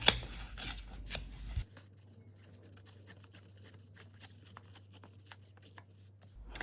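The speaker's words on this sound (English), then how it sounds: "I don't want these straight edges, so I'm going to tear both of the edges." Cotton-like fabric being torn along its edges for a ruffle: a few sharp ripping bursts at the start, then quieter rustling and handling sounds over a low hum.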